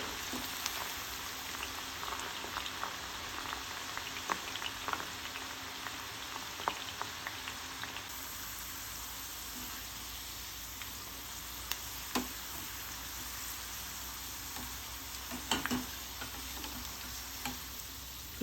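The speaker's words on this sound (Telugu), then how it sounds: "ఇప్పుడు మనము ఈ దొండకాయలని వేసేసుకుందాం మంచి క్రిస్పీగా ఫ్రై చేసుకోవాలి" Ivy gourd slices fry in hot oil for a crisp, catering-style stir fry, giving a steady, close sizzle with scattered pops and crackles throughout, no voices.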